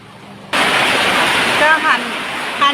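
Rain falling at a garden home by a canal starts abruptly as a loud, steady rushing hiss after a quiet moment, with a voice briefly rising over it near the end.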